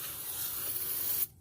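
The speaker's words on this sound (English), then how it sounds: "Grab our new rotor and just shoot it really quick with some cleaner." Cleaner sprayed onto a new brake rotor for a 2007 Chevrolet Cobalt: one steady, close hiss lasting just over a second, then it cuts off sharply.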